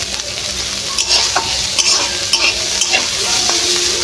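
Bitter gourd frying with onion in a pan sizzles loudly and steadily while a spoon stirs it, scraping and tapping at an irregular rhythm, close up with no voices.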